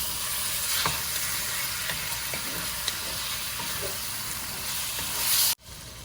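Shrimp stir-frying in a pan with garlic, pepper and a splash of dark soy sauce gives a steady, close hiss of sizzling oil with small clinks of stirring, then cuts off abruptly near the end.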